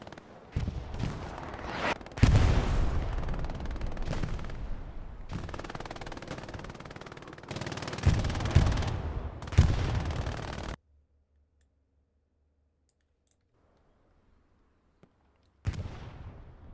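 Hell Let Loose battle with heavy artillery shells and gunfire, dense and loud bursts of shots and blasts for about ten seconds, a sudden near-silence, then another loud burst at the end.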